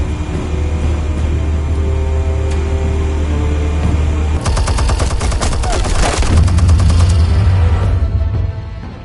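Weapons open fire in the Batman Telltale Series video game: a rapid, loud volley of gunfire bursts for about two seconds, framed by a low steady engine-like drone before and after.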